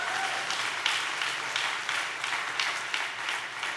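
A church congregation claps hands together in sustained, dense applause at an even volume for nearly four seconds, with no distinct speech over it.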